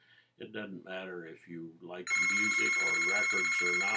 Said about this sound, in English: Sorry about the phone, folks.